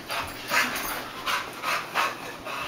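Dog panting in rapid, rhythmic bursts of breathy huffs during a dog fight, close and moderately loud with no talking.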